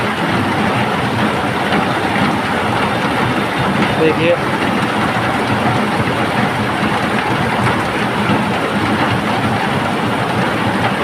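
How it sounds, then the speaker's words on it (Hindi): Heavy night rain pours down in Bhayandar, a loud, unbroken broadband hiss of downpour filling the whole stretch, while someone briefly speaks over it. "काफ़ी देर से भाईंदर में बारिश हो रही है भयंकर।"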